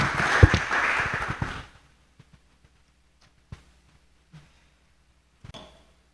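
A congregation at a church service gives a burst of clapping that fades out after about a second and a half, followed by near silence with a few faint knocks.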